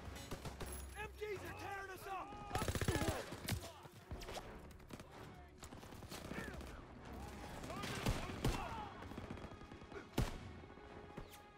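Dense gunfire from Call of Duty WW2 multiplayer combat, bursts of automatic weapons and single shots crackling repeatedly throughout, with loud close volleys around the third and tenth seconds over a busy battlefield mix.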